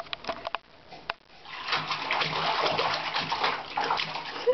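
Water splashing and sloshing as a young child plays in a bathtub at bath time, with bursts of splatter between quieter moments and a steady wash of moving water close by.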